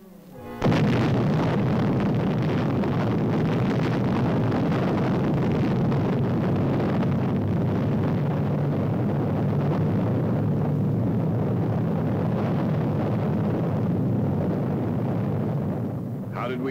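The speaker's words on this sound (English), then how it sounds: "just before the explosion" A weapon-test explosion in an archival army film rolls on as a sustained, loud, low roar that fills the whole stretch without letting up before it fades slightly at the end.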